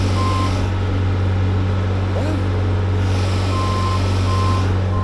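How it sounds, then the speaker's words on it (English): A vehicle's backup buzzer beeps in a steady, repeating pattern over a loud constant engine hum, heard up close outdoors near mobile homes. "Where'd the backup buzzer come from?"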